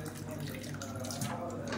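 Water is poured from a tap into a thick mixture to thin it while cooking a diabetic-friendly diet dish, giving a steady close splashing stream with faint background talk.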